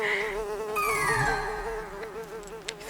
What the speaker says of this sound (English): It's a bee, Mr. Beetle.